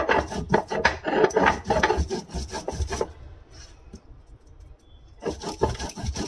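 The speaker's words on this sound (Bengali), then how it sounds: "প্রথমে হলুদটাকে আগে থেতো করে নেব, নিয়ে পুরো মশলাটাকে আগে বেটে নেব।" Turmeric and spices are pounded and ground by hand on a stone, giving rhythmic, close scraping strokes in quick bursts, a pause of near quiet, then the grinding strokes start again.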